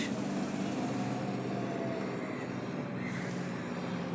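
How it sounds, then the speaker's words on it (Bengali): A fixed-wing airplane drones steadily overhead near the Karnaphuli river at the Chattogram Boat Club, a constant moderate roar without talk. "একটা প্লেন যাচ্ছে"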